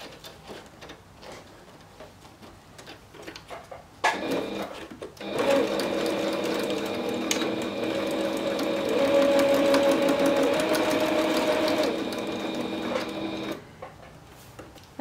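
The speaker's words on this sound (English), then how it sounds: "I'm going to go to my sewing machine and I'm going to sew these two pieces together." A sewing machine starts up after a few soft handling noises and runs steadily for several seconds zigzag stitching two fabric pieces, a fast rhythmic whirring hum, then stops.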